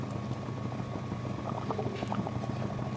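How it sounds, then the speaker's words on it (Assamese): Meat curry bubbling in a pot on a gas stove, a steady low simmering texture with scattered soft pops and a faint burner hiss running throughout, close and even in level. "ধুনীয়াকৈ বইল হৈ গ'ল"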